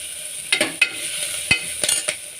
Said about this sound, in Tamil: கொஞ்சம் வெங்காயம் வதங்கணும், அது கொஞ்சம் டேஸ்ட் கொடுக்கும்.